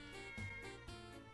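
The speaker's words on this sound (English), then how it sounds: "I and the rest of the class could hear its mewing and whining from outside the window" A black cat in a video game mews from outside a window, two short, faint, whiny meows in quick succession.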